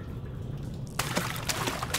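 Water sloshing and trickling inside Amnesia: The Four Horsemen, rising abruptly after a quiet, dim stretch into a moderately loud, continuous splashing wash with a few sharper splashes, no voice over it.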